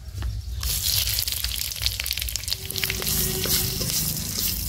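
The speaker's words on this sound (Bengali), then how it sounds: "ডালে ফোড়ন দেবো, 5 ফোড়ন, শুকনো লঙ্কা, তেজপাতা" Dry red chili, bay leaf and five-spice tempering hiss loudly in hot oil for a lentil dish, a sudden burst of sizzling that stays strong and crackling throughout.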